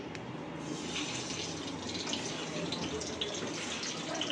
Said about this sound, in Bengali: তেলটা গরম হয়ে গেছে, এবার আমি এই ডিম আর আলুটা ছেড়ে দিচ্ছি।